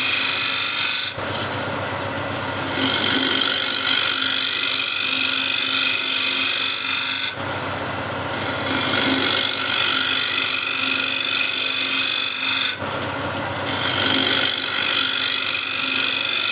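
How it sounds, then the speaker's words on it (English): Woodturning on a lathe with a negative rake scraper cutting shavings, a loud continuous whirring scrape that comes in three long passes broken by brief pauses. "So this is now the negative rake scraper. Okay, so there is a fresh burr on the negative rake scraper, and I'll try to catch as many shavings as I can."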